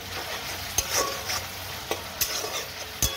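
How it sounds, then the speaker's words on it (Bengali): Spice paste for a rui fish curry frying in a pan gives a constant sizzle, broken by several sharp scrapes and taps of a spoon stirring it, close up with no voices. "আগে মশলাটা ভালো করে আমি ভেজে নিই, তারপরে আমি টক দই 5 মিনিটের মতন ভেজে নিই মশলাটা"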